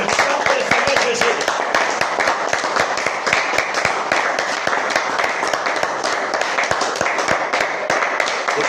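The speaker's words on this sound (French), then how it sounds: "Applaudissons pour le Seigneur Jésus." A church congregation claps in praise during a revival service, a dense rhythmic wash of many hands that stays loud and even throughout, with voices audible beneath it.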